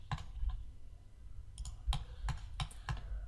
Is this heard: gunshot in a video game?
no